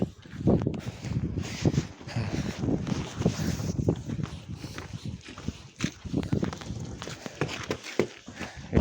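Strong Storm Elli wind gusts through a Bremen street in heavy snowfall, roaring and buffeting the microphone in loud, uneven surges with rustling and crunching close by throughout.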